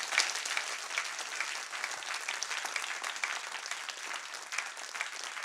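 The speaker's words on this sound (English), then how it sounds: "a big round of applause to our speakers" An audience at a forum event gives the speakers a sustained round of applause, with steady, even clapping from a sizable crowd filling the whole stretch.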